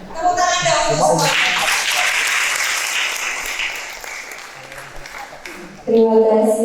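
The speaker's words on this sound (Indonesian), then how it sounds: "Tepuk tangan dong semua." An audience at a batik training workshop breaks into loud, sustained applause that swells and then slowly fades, framed by a short burst of talk before and after.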